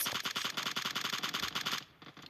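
Rapid automatic gunfire in the PUBG Mobile video game rattles out in a steady, fast burst of shots for nearly two seconds, then cuts off, leaving a quieter game background.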